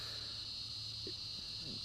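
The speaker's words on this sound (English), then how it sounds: "Can also hear the cicadas." Cicadas drone steadily outdoors at a poolside gathering, a continuous high buzzing that holds unbroken from start to finish, with a few faint low knocks and murmurs beneath it.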